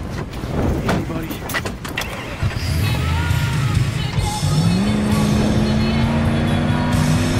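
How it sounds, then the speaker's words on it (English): A vehicle in Battlefield 4 starts up after a few sharp impacts and door clunks, and its engine rises into a steady, loud drone that climbs in pitch as it drives off, with voices shouting over it. "Step on it, Wrecker. Let's go"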